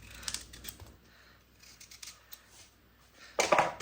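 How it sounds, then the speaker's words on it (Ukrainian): A knife cutting peeled potatoes into pieces, quiet soft chopping taps and crisp slices scattered through the clip, ending in a louder, close burst of cutting. "Картоплю нарізаємо ось такими кусочками."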